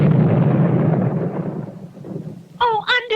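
A cartoon bomb blast: a loud, deep rumbling boom that decays slowly over a couple of seconds, then a short burst of voices cuts in at the end.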